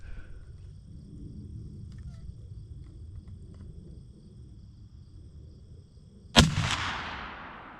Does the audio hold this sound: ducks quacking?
no